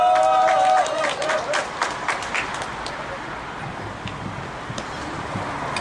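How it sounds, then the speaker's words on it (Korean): Applause and clapping from a crowd at an outdoor candlelight rally, loudest at the start and gradually tapering off, with wind noise buffeting the microphone throughout. "힘찬 박수로 모시겠습니다."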